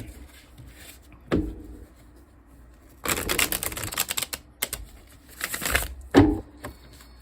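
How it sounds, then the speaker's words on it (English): Tarot cards being shuffled by hand, several bursts of riffling and rubbing, close and clear with quiet pauses between them and no talking. "let me just get a good shuffle in here."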